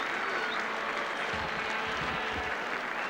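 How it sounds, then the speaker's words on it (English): Applause from a stadium crowd at half-time in an international football match between Australia and Saudi Arabia, a steady, dense wash of clapping heard from a distance. "Listen to the applause."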